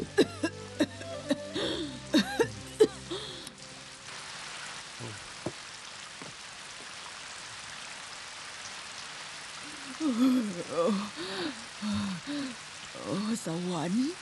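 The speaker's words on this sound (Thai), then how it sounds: "ฝนตกแล้วค่ะ" Rain falls steadily on an outdoor surface in a period drama scene, a soft continuous hiss across most of the stretch, with someone talking and brief vocal sounds at the start and again near the end.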